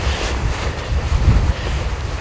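Wind gusts across an exposed mountain perch among boulders on a freezing 5-degree day, a continuous roaring buffet against the microphone heard alone without talk.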